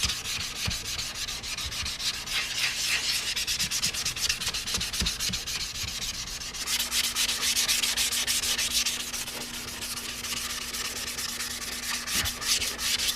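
Sandpaper rubs by hand over a Ninja motorcycle fairing, a steady, close scratchy back-and-forth sanding that continues throughout, with a brief pause midway and no talking.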